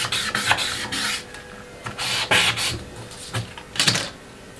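Pencil drawing lines on a paper sewing pattern for a princess-dart bustier gown, connecting an armhole curve to shoulder and bust lines; close, dry scratchy strokes in short irregular bursts with brief pauses between, no talking.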